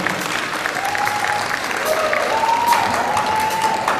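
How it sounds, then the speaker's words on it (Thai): Steady crowd applause welcomes a contestant onstage at a singing contest, continuous clapping from a large audience with a faint tone running through it. "ขอเสียงปรบมือต้อนรับน้องปลานะคะ"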